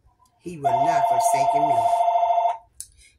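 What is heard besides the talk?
telephone ringing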